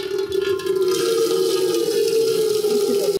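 Water poured into a biryani pot in a home kitchen, a steady rushing splash that runs loud and unbroken for the full length, with no voices over it.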